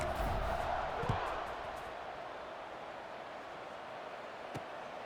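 Stadium crowd noise from EA Sports College Football 26, a broad steady roar that swells slightly at the start and then holds at a lower, even level, with a few brief thumps over it.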